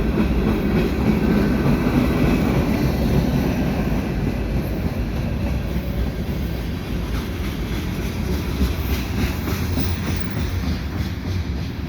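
A CPKC freight train loaded with double-stack containers rolls through Dorval in winter, its steady rumble and wheel clatter filling the air without a break as it passes nearby.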